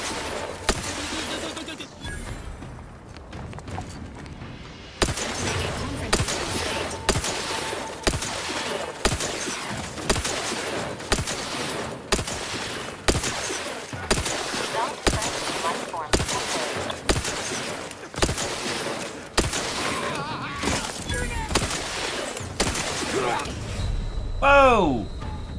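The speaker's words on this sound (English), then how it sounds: "Somebody was shooting me from the side." Gunfire in the video game The Outer Worlds, with repeated sharp shots in a steady rhythm throughout, under a voice speaking at times.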